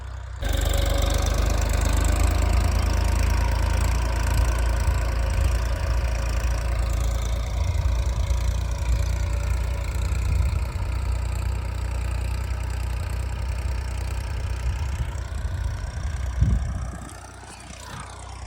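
A tractor engine idles steadily with a low, rumbling drone, close by, before revving briefly and fading near the end.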